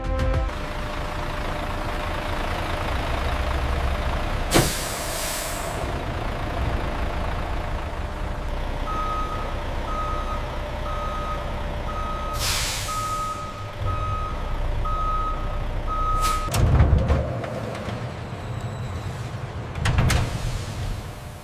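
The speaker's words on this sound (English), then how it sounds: "Our fleet of refrigerated Thiendeptry trucks ensures the fruit arrives rapidly while maintaining perfect temperature control." A refrigerated fruit delivery truck idles with a steady engine rumble while a regular reversing beeper pulses clearly over it, accompanied by two hissing air-brake bursts and some clanks near the end, with no talking.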